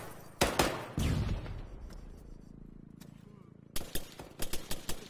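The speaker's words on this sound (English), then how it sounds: "Flashbang going out." A flashbang grenade bursts during an Arma 3 infantry firefight: sharp loud bangs near the start and a cluster of rapid cracks at the end, with a ringing, muffled stretch between and people talking around it.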